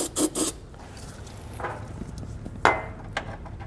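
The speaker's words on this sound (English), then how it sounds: "I'm gonna take a wire brush here and just clean out those holes as best as we can" A wire brush scrubbing out rusted weld nut holes on a 2018 Nissan Pathfinder's frame, short raspy scraping strokes in brief irregular bursts, close and alone.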